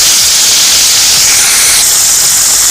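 Tomato hits onions in hot oil in a kadai, with cumin and chili, and sizzles in a loud, continuous, bright hiss close up, broad and steady without pause.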